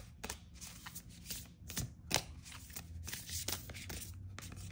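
Tarot cards are shuffled by hand in a quick series of riffling, papery flicks and slides of varying loudness, with a low background hum underneath.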